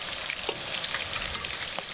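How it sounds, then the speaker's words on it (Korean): Battered jujube-wrapped snacks deep fry in hot oil, giving a steady, dense, close crackling sizzle with no talk. "대추로 감싼 보리수운에 튀김옷을 입혀 튀기면 영양 만점 간식이 됩니다."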